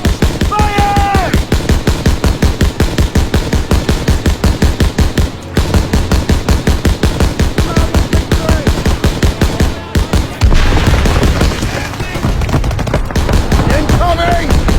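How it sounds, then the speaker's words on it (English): Rapid automatic gunfire rattles in the Hürtgen Forest battle of Call of Duty: WWII, a loud, steady stream of shots with brief pauses, heavier booms near the end, and soldiers shouting over it. "Firing positions! Engage! Fire!"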